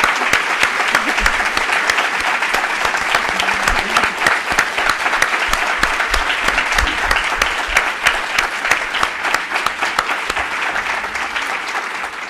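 Sustained audience applause fills a seminar hall at the close of a talk on city, childhood and children's rights, dense steady clapping from a large crowd without a break.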